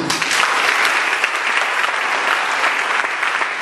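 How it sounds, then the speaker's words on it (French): A church congregation applauding, dense steady clapping from many hands throughout, loud and close with no talk. "Acclame Jésus"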